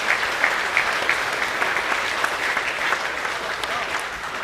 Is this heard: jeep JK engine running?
no